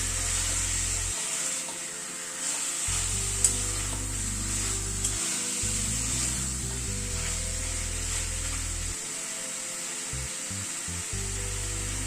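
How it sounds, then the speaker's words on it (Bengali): Chicken pieces frying with spices in a pan, a continuous bright sizzle held close and fairly loud, with a few faint clicks from stirring and no voices. "চিকেনটাকে দিয়ে মশলার সাথে একটু কষিয়ে নেবো"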